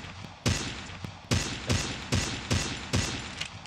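Booming shots ring out in a video game shooter, six or so heavy reports spaced about half a second apart, each followed by a long, loud rumbling decay that carries into the next.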